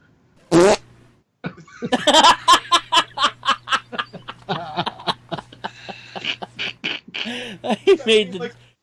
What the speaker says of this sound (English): I made the dog fart from its mouth